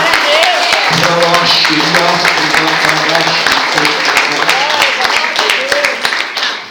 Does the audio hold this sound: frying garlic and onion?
no